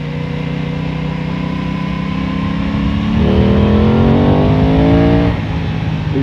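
Aprilia Tuono 660 roadster motorcycle in A2-restricted 47.5 hp form, engine heard up close while riding, a steady drone that climbs in pitch as it revs harder midway, then eases back.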